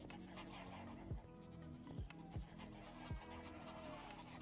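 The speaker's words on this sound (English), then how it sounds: "I hear a screaming goat." A screaming goat in the video game Origin Realms gives several short, faint bleats at a steady pace over in-game ambience and music.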